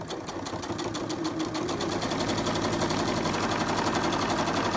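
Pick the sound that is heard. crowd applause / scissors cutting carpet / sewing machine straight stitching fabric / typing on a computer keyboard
sewing machine straight stitching fabric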